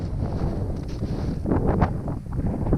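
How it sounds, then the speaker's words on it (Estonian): Strong, cold wind blows over an open bog and buffets the microphone with a continuous low rumble and gusty swells that build toward the end. "No siin on juba üsna krõbe see tuul."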